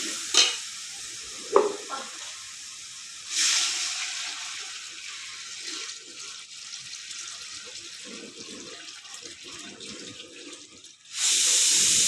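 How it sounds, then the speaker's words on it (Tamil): Water poured into masala cooking for mutton biryani splashes and sizzles loudly in bursts, with stirring and a softer simmering hiss between, close up, and a final strong rush of pouring at the end. "இப்போ நான் வந்து தண்ணி ஊற்றிக்க போகிறேன்."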